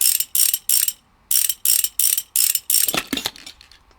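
Bolts being removed from a speedometer in the video game Motorcycle Mechanic Simulator: a run of quick, bright ratcheting bursts with short pauses between them, followed by a few sharper clicks, loud and close with no talking.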